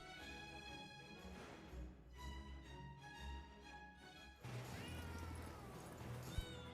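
Kitties in the video game Potionomics meow in a steady series of tonal cries over soft game music, one louder burst of mewing near the end.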